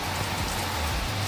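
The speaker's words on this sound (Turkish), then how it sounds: "Çok güzel sağanak bir yağmur yağıyor." Heavy rain shower pouring down outdoors in Erbaa, Tokat, a dense, steady hiss of downpour filling the whole moment, close and loud with no talking.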